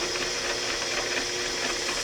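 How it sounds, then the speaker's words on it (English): A small hole saw drills a hole in a plumbing part for a vintage camper's water setup, giving a steady, even whirring drone for about two seconds with no talk. "I've got to take my little hole saw here and drill a hole in that"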